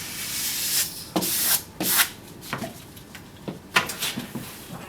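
Rivet brush scrubbed over a 3M film pressed onto a lightly textured painted wall: a series of close, brisk rubbing and scratching strokes in an uneven rhythm, moderately quiet, with no talk.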